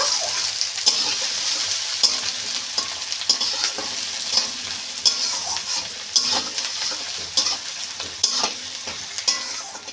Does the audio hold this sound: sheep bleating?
no